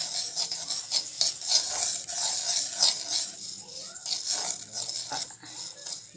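Achar masala roasting in a hot kadai for kudrum pickle, a bright dry crackling sizzle with rhythmic scraping swells from stirring, fairly close and quiet, no talk.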